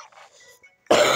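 A sudden, loud single cough bursts out at the end, after faint mumbled sounds and near silence.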